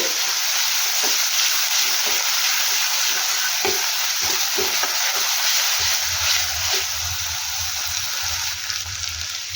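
Ground masala fries in oil over a low flame for an aloo fry, giving a loud, dense, continuous sizzle with occasional soft stirring knocks throughout.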